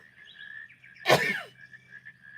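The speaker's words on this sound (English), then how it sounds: "Gonna sneeze." A single close sneeze bursts out sharply and fades within half a second, over a steady high whistling tone and low hum.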